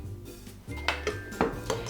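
A spoon mixing yogurt with a pinch of salt in a bowl for cucumber raita, giving a few distinct clinks and scrapes against the bowl over a low background hum.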